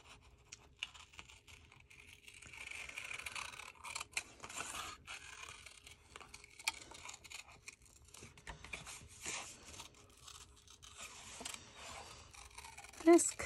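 Scissors roughly cut through a sheet of music paper at a craft table: a steady run of dry, scratchy snips and rustles lasting several seconds, fairly soft and close, with a brief louder knock near the end.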